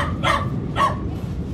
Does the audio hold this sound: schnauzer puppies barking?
yes